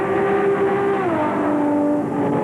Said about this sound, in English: in the giant 427 Cobra is having a battle with rookie sensation Mario Andretti.